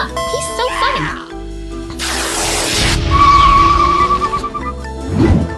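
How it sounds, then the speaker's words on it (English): A cartoon truck in a children's vehicle game skids with a screeching tire squeal, then tumbles over with clattering impacts and a final thump, all set against bouncy background music. "that silly truck just did a somersault"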